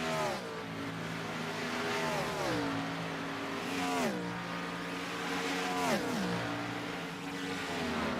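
Race cars lapping the track at Texas in an FMA Dobias Cup race, engines droning and rising into repeated gear-shift sweeps as they run the front straightaway into turn one, steady and moderately loud with no talking.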